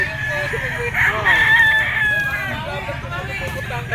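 A white Kelso bullstag gamefowl crows once, a long drawn-out cock-a-doodle-doo lasting a couple of seconds, close and clear, with faint clucking and low background noise around it.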